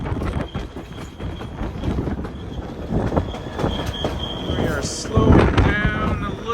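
Historic train rolling along rails on the way to the Grand Canyon, heard close from the side of a car as a rumbling, clattering rush with occasional bright metallic wheel squeals and a surge of noise near the end.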